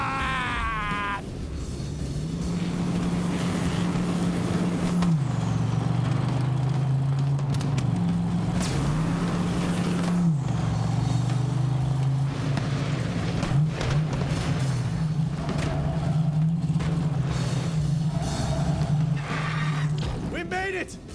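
A vehicle engine drones steadily while driving in Borderlands 3, a loud continuous hum that shifts pitch as it speeds along, with voices shouting over it and crashes and game effects around it.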